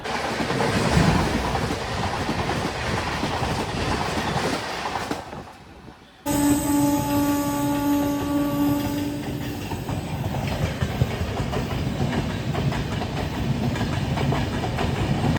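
The 12815 train leaves the station for Kolkata and gathers speed, a steady rolling rumble that briefly drops away, then returns with a long, sustained horn tone before settling into continuous running noise.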